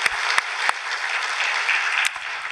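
A church congregation applauds during a sermon, a continuous even roar of many hands clapping with a few sharper knocks standing out near the start and middle.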